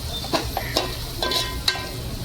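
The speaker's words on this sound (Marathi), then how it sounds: "चांगले परतून घ्यायचे ना मसाले" Onion-garlic spice masala with turmeric and coriander powder is sautéed for keema, short spatula scrapes and clinks over a low background sizzle, close by, no talking.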